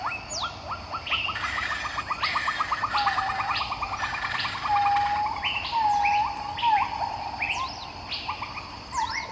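A flock of macaws calls in the Amazon rainforest, with repeated chirps, whistles and harsh squawks overlapping fairly close and steady throughout.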